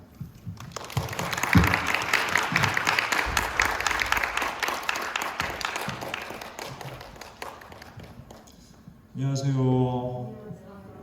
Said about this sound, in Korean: 나오실 때 우리 박수로 환영해 주시기 바랍니다